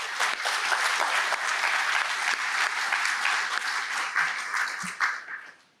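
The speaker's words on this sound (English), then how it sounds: "So round of applause for social media chairs." A conference audience at the JuliaCon opening ceremony claps together for the social media chairs, a dense, sustained round of applause that holds steady and then fades out at the end.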